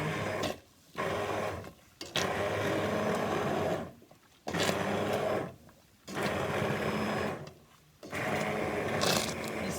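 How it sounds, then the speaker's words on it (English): Immersion blender whirring through simmered mushroom soup in a pot, a loud steady motor drone in bursts of about two seconds, cut by short pauses. "Okay, so here we are to the point of using the immersion blender."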